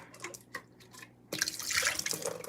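Quiet drips and clinks give way to a kitchen tap suddenly running into a sink during dishwashing, a steady close splashing flow for the last second.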